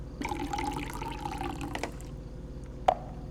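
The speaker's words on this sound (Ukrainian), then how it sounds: "А, в кружку воду набрати." Water running into a mug in the horror game Fears To Fathom, a short trickling pour that rises slightly, then stops, followed by a single sharp clink near the end; no one talks.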